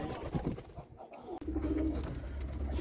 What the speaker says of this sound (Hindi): हमारा जो सिराज है, जिसने इस कबूतर के साथ जोड़ा बनाया था, ये वाला कबूतर है